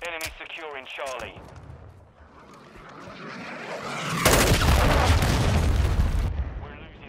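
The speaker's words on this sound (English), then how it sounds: "Hostiles launched a cruise missile" A cruise missile strike in Call of Duty: Modern Warfare II multiplayer: after radio chatter and game noise, a loud, sustained roar of heavy explosions erupts midway and rumbles for a couple of seconds before cutting off.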